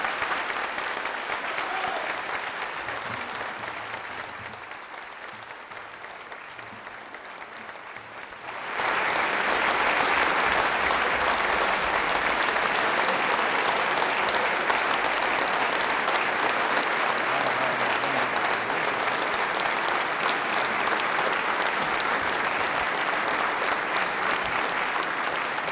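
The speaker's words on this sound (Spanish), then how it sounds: "Ovación de pie" A standing ovation for President Maduro at the UN Human Rights Council: scattered quieter clapping gives way to loud, dense, sustained applause from a large audience that continues steadily to the end.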